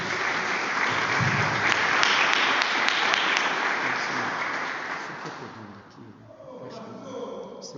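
Congregation in a church service applauds the Lord, loud sustained clapping for about five seconds, then fading into quieter room sounds with faint voices near the end.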